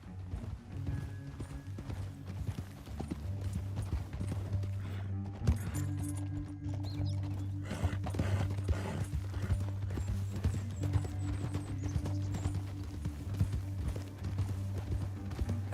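Horse hooves clip-clop steadily through the Red Dead Redemption 2 game world, a rhythmic mid-level beat under a continuous music and ambience bed, with an occasional faint whinny.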